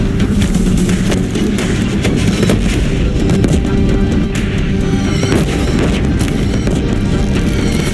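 Deathbringer war machines in Horizon Zero Dawn pounding a bridge with heavy gunfire, a dense, loud barrage of booms and blasts running without pause over a rumbling battle bed.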